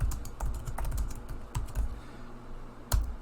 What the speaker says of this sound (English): once you start typing, you've turned the placeholder into a text box